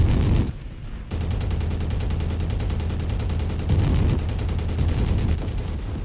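Rapid automatic weapon fire from light mechs in the video game Mechwarrior 5, a dense, continuous stream of shots over low rumbling explosions, loud and close, with a brief lull near the start.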